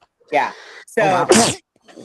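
A single sharp sneeze bursts out during a conversation, loud and close, with people speaking briefly before and after it.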